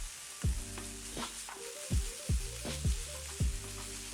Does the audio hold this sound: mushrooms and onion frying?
yes